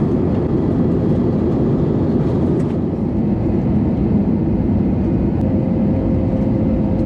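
Inside an airplane cabin during descent toward Bengaluru, a loud, steady broadband engine and airflow roar fills everything with no break, and no voices are heard.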